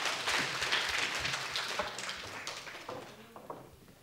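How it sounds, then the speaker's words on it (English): An audience at a ladies' training camp claps, a fairly quiet round of applause from a mid-sized group that is steady at first and then thins out to a few scattered claps before fading. "Can you clap for them at least?"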